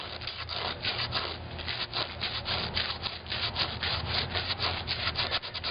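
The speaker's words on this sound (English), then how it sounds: "Inside the bowl, on the ends I do the swoop like this with at least the rough sandpaper" Rough sandpaper rubs over a hand-carved wooden spoon in quick, steady back-and-forth strokes, a close, scratchy, rhythmic rasp that continues without pause.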